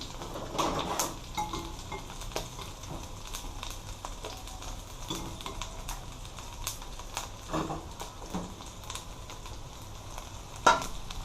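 Vegetables fry in a tablespoon of oil in a pot while sweet and sour chicken is cooked Jamaican style. A faint, steady sizzle runs underneath scattered light clicks and clinks of a utensil against the pot.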